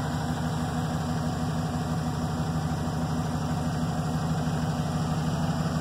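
A 2008 Chevy Silverado 4x4 short bed with a stock 5.3-liter V8 and a single exhaust pipe idles steadily, a continuous low rumble running from start to finish with no talking over it.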